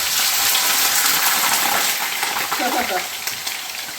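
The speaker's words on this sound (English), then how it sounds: "all that sizzle is a little bit of that water that didn't drain off from me washing the potatoes" Loud, bright sizzling of potatoes frying in hot grease in an electric skillet, crackling and popping steadily from leftover wash water, easing slightly toward the end.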